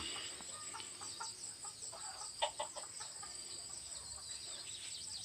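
A Thai Kai Sa fowl, a game chicken kept in a coop, gives a few faint, brief clucks amid steady high insect buzzing outdoors.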